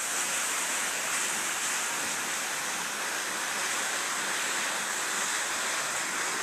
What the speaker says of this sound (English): Here we are at the McClure Dam